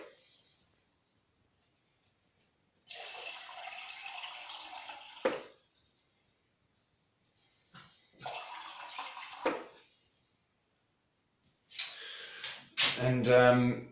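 Spring water is poured in three separate bursts into a glass with lemon, each a close gurgling pour lasting two to three seconds, separated by quiet pauses, the last ending in a brighter ringing fill.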